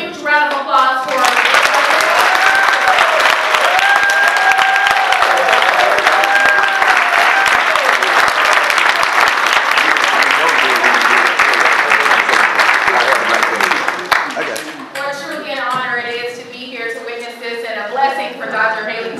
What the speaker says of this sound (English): How about one more huge round of applause for